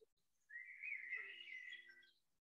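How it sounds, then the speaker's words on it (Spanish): A single bird sings one sustained, bright whistling phrase of about two seconds, moderately close but soft against a quiet indoor background. "Los pajaritos están cantando muy fuerte."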